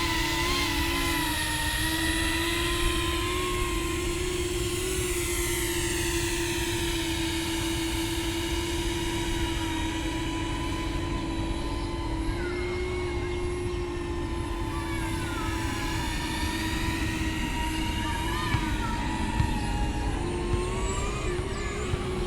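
Cinewhoop FPV drone flying on 75mm propellers at around 14 volts: a steady, loud, high whining buzz that rises and falls in pitch as the throttle changes, continuous throughout with no talking.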